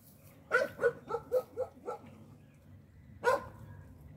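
Dog barking outdoors at a moderate distance, a rapid string of about six barks followed by a pause and one more bark.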